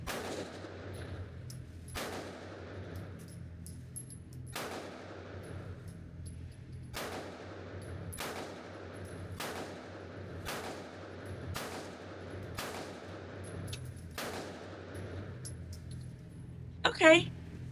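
A rented Glock pistol fired at a shooting range, about eight sharp shots spaced a couple of seconds apart, each with a decaying echo, fairly close and without talk, ending with a brief metallic clink.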